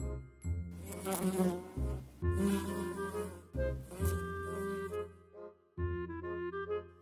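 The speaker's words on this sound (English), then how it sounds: "Insects." Insects such as bees or flies buzz in loud, droning bursts that start and stop several times, with a musical backing and no talking.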